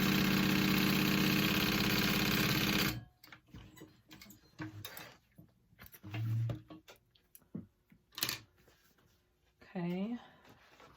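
A sewing machine joins tote bag pieces, running in a loud steady whir for about three seconds, then stopping, followed by short bursts of handling noise and someone speaking over the quieter stretch.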